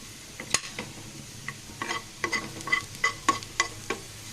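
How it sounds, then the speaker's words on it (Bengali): Garlic fries in a pan with a quiet background sizzle, broken by a dozen sharp scrapes and clicks of a spoon stirring against the metal. "এই পর্যায়ে কিন্তু আমার রসুনটা একদম ভাজা হয়ে গিয়েছে।"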